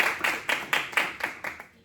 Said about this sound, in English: come on, clap it up for that book.